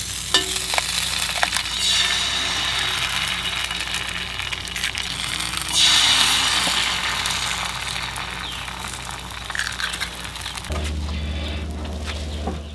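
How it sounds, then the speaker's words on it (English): Eggs frying in a heated pan give a steady close sizzle and crackle that runs for several seconds before dropping to a low hum near the end. "I'm gonna fry a couple eggs on here."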